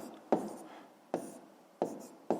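Pen writing on paper while working a math exercise, heard as four short scratchy strokes at a steady rhythm, close and quiet, with no talk.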